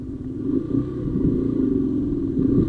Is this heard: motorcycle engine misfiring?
yes